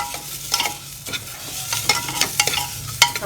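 Small onions and curry leaves frying in a little oil for country chicken soup, a crackling sizzle with frequent clattering stirs and scrapes of a utensil against the pan, close and fairly loud.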